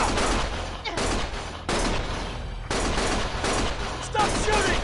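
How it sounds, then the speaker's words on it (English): Gunshots ring out in Lost Judgment, loud repeated bursts of heavy fire arriving in clusters separated by short gaps, close and dominant throughout, with voices shouting amid the shooting. "Stop shooting!"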